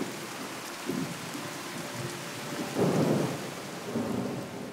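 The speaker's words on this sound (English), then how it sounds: "The rain is slightly quieter in the trailer." Video game rain from Fallout pours steadily in a broad hiss while thunder rumbles low, with a couple of heavier rolling swells, no voices.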